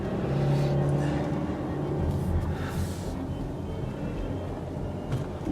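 A 2014 Mercedes-Benz GLK250 diesel SUV drives along with a steady, moderately loud engine and road rumble, with mild shifts in pitch and no talk.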